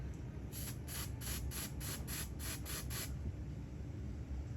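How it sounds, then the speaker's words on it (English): About ten short hissing bursts from a spray can spraying a card come in quick, even succession, faint against a steady background hum. "And spray the card"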